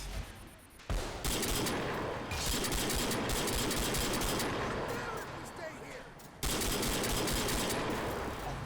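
Dense, sustained gunfire in Crysis 3, heavy and loud throughout with a brief lull near the end before shooting resumes.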